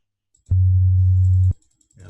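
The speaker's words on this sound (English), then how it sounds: "I start reducing the frequency, so I'm moving this to lower frequency" A single electronic test tone set to a low, bass frequency sounds for about one second as a pure steady hum with sharp starts and stops, then fades into near silence.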